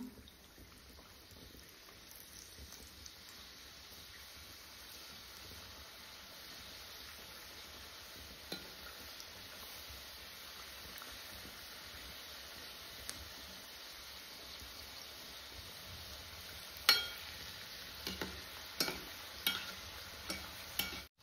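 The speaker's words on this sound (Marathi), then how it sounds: "तेल गरम झालेले, मोदक सोडून घेऊ तळण्यासाठी" Modak dumplings frying in hot oil give a steady, soft sizzling bed throughout, with a few sharper pops and crackles near the end.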